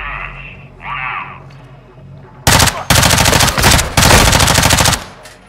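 Automatic gunfire from a Call of Duty: Modern Warfare 2 campaign mission comes in loud, close bursts. Several sustained volleys follow a quieter opening of radio-like chatter and effects.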